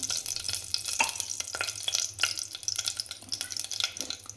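Dried red chillies crackling in hot oil for a tempering, a close, busy sizzle with bursts of sharp pops and spatters over a low steady hiss.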